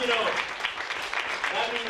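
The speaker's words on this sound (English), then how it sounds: "Big round of applause for Media Group." A crowd applauds at a food bank Christmas benefit concert held in a venue, a short burst of clapping with voices mixed in.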